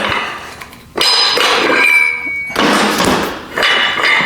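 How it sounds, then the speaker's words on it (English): Adjustable dumbbell plate collar being spun and tightened, giving metallic clinks, scraping and thuds in a few bursts close by, with quieter gaps in between. "if you're the type of person that wants to do drop sets and you're gonna quickly unthread"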